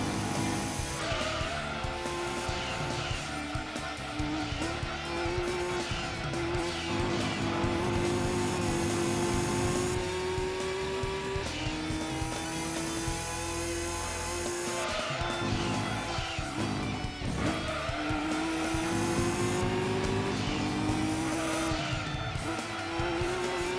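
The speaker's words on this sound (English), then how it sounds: "I love that turbo engine noise though, man. It drowns out everything." A turbocharged race car engine in the Gran Turismo 2 video game drones loudly and continuously, its pitch climbing through gears and dropping with shifts, with occasional tire squeal, and no talking.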